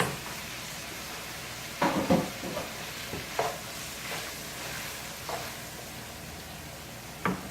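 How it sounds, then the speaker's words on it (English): Onions and peppers cook down in a pan for lasagna sauce, giving a quiet, steady sizzle broken by a few scraping stirs, with no talk over it. "we're going to add our onions and our peppers. And we're going to let this cook down till they are tender"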